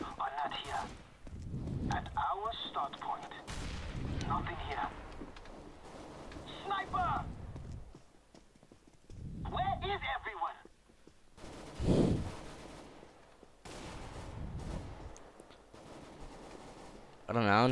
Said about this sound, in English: My teammates just sound like they're firing at nothing.